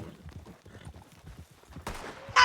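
Hoofbeats from a horse in the Red Dead-based game WildRP clop in a quick, uneven patter at moderate volume, followed by a brief burst of brighter noise at the end.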